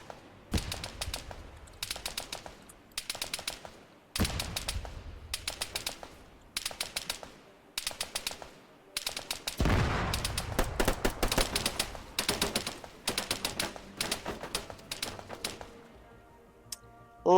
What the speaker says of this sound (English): Please, for the love of God, take that machine gun out.